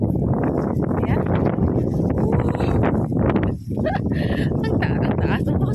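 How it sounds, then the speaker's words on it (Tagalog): Strong gusty wind outdoors in a park, roaring steadily into the microphone with one brief lull, and voices faintly mixed in. "Ang lakas ng hangin."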